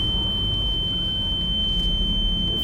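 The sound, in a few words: fire alarm beeping in a house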